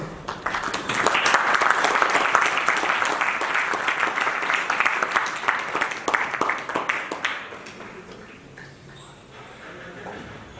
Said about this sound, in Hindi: आप सब लोग जोरदार तालियों से उनका अभिनंदन करें